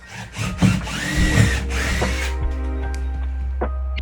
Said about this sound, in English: the screws are going in solid and they're getting a good connection